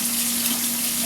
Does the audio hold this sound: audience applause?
no